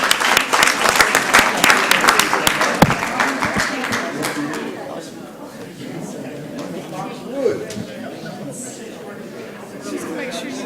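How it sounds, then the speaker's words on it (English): A city council chamber crowd gives a round of applause, loud and dense at first, then thinning out into murmured chatter and voices as the clapping dies away. "Let's give them a round of applause"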